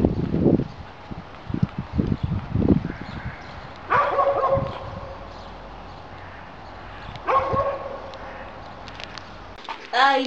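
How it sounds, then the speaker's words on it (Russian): A dog gives a series of loud, close barks and yips, several at the start and then two sharp bursts a few seconds apart, with quieter gaps in between. "не будем слушать собаку"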